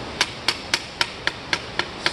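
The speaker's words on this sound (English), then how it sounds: "We are going to use the soft hammer just to try to impact it up." Soft hammer striking an aluminum armor plate during shaping, eight evenly spaced dull taps in a quick steady rhythm, close by, with no talking.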